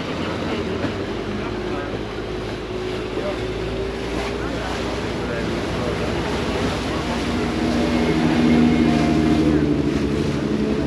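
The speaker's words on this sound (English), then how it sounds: "can hear the fire brigade now coming" Fire brigade boats approach along a Venice canal, their steady motorboat engine drone building slightly louder toward the end amid water wash, wind and nearby people talking.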